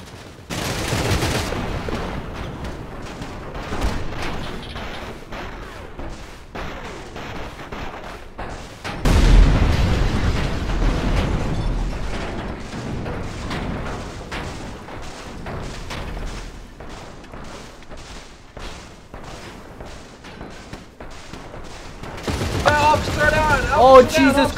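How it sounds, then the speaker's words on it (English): Machine gun fire rattles through a GTA RP firefight: sustained bursts and rapid shots, with booms that swell louder around the middle and again at the end, heard alone without voices. "What kind of machine gun does he have? He's still shooting."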